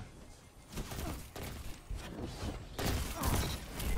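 Hand cannon gunfire in a first-person shooter, a series of heavy, booming shots in an irregular rhythm, each with a short rumbling tail, fairly loud and unaccompanied by talk.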